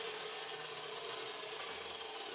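Half-inch square steel tube being cut during a trailer build gives a continuous, even rasping hiss, close by and fairly quiet, with no voices.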